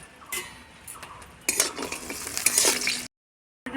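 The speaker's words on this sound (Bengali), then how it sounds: "প্রথমে ডালের বড়িটা ভাজি রাখি দিন" Sun-dried lentil dumplings (bori) fry in hot oil in a heated kadai, a quiet sizzle that swells into louder crackling as a metal spatula stirs and clinks against the pan, then cuts off briefly.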